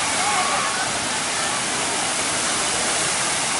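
Buckingham Fountain in Chicago spraying water, a loud, steady, close roar of rushing, splashing spray with no breaks.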